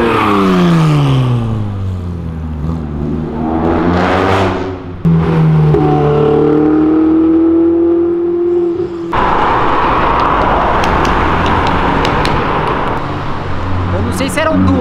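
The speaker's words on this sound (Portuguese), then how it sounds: "Primeira mina que eu vejo aqui na Avenida Europa dirigindo uma Lamborghini" A Lamborghini Aventador rolls along Avenida Europa amid street traffic, its engine note rising and falling in sweeping pitch changes before a broader, steady road roar takes over, with people talking loudly throughout.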